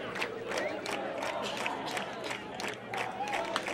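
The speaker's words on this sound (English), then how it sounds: "You can hear there's lots of excitement from everyone, from the PA announcer, that's Fletcher Mulnix, right down to the crowd." A crowd at a 2012 men's college soccer match between Bob Jones University and Freed-Hardeman University cheers and claps in a dense, continuous roar with scattered voices and rhythmic clapping.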